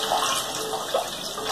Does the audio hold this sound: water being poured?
yes